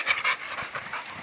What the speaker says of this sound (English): Dexter, Jesus Christ, see how he barks?